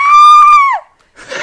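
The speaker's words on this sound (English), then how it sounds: "Bazooka screams her head off" A woman's shrill, sustained scream in a horror movie parody sketch, loud and close, holding one pitch before dropping away. A short silence follows, then a burst of noisy sound.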